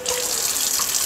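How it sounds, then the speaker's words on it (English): Warm water runs steadily from a kitchen tap, a continuous close hiss and splash with no pauses, filling a bowl for pizza dough. "then I'll get some warm water coming out of the tap here"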